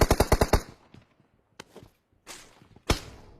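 Rapid burst of about six sharp shots at the start of a multiplayer shooter match in a hangar area, followed by a few scattered, fainter single shots, with no talk.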